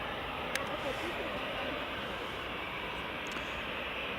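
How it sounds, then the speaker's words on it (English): An EasyJet airliner taxis out at Edinburgh Airport with a steady, moderate jet engine rumble and hiss, plus a couple of brief clicks near the start and end. "Got another EasyJet just taxiing out now"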